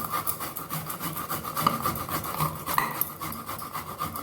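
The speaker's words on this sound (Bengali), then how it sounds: "এই বাটিটাতে পেঁয়াজটা একটু এটা দিয়ে গ্রেট করে নিচ্ছি, একটু ঘষে নিচ্ছি।" An onion is rubbed against a grater into a bowl at home, giving a steady run of close, rhythmic rasping strokes.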